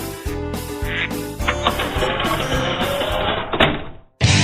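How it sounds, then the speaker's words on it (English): Bursts of loud, nasal quacking repeat in quick succession, a noisy cluster of ducks calling close by before a brief silence. "We'll be right back after Bob gets the ducks out of his living room."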